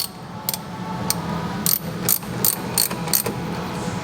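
Ratchet wrench tightening a cable end onto the battery terminal of a 40-year-old Jeep Honcho, heard as about eight quick clicking bursts in an irregular rhythm over a low steady hum, close and fairly loud with no talking.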